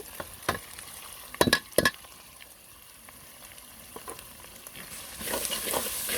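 Onions and mixed spices sautéed in a pan with a spoon stirring, a soft continuous sizzle broken by a few sharp scraping knocks, moderately close and quiet with no voices.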